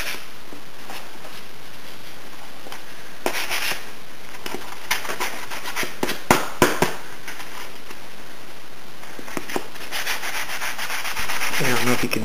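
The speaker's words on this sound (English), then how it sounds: "now that I've sanded it down with the first grade of 100 grit" Hand sanding of a WASR-10 Romanian AK-47 rifle stock with 100 grit sandpaper: repeated close rubbing strokes in an irregular rhythm, with no talking.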